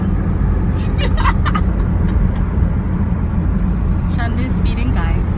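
Steady road rumble from a car cruising on a highway, a continuous low engine and tyre drone with someone talking over it now and then.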